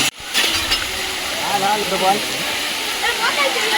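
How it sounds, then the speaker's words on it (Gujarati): Hill water rushes steadily down stone steps at Tapkeshwar Mahadev temple in Gir Somnath, Gujarat, with a broad, hissing roar, continuous and close throughout. "કેવું પાણી સીડીમાંથી આવે છે"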